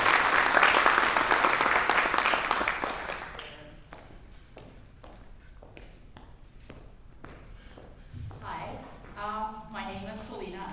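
Audience applause welcoming Selena Atwell to the stage at an Adult Learners' Week 2025 celebration: a loud, dense burst of clapping that fades after a few seconds, leaving scattered claps and room noise before a voice begins speaking.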